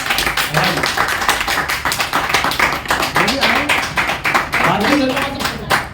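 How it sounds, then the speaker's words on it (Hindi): An audience claps steadily to welcome a speaker onstage at a Tata event marking Kargil Vijay Diwas. The applause is dense and sustained, with voices faintly audible underneath. "तो मैं जोरदार तालियों में नरेंद्र जी को बुलाऊंगा।"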